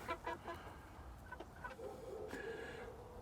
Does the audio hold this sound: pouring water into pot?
no